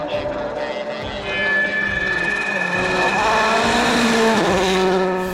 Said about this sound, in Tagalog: Ang humaharurot na racing car ay umaabot ng 200 miles per hour